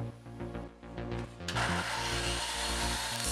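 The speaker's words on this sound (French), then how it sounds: "il faut faire un peu de découpe car ça part de tous les côtés" Old heating pipes being cut in a hallway during a house renovation: a harsh, continuous sawing rasp kicks in about halfway through and runs steadily to the end over lower droning tones.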